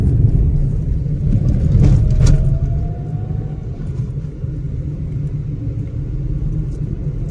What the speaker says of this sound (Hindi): तो ये गाड़ी चालू हो गया है।